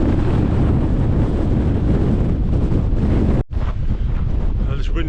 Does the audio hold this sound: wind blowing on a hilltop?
yes